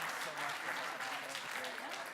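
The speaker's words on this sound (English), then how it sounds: "can we give our panelists a nice round of applause for an excellent event?" An indoor audience at a climate conference side event applauds the panelists, a brief dense burst of clapping heard up close.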